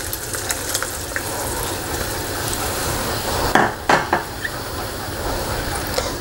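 Cornstarch-thickened sauce for Filipino-style honey glazed teriyaki wings bubbles and sizzles steadily in a pan, with a few brief clinks and scrapes of stirring partway through.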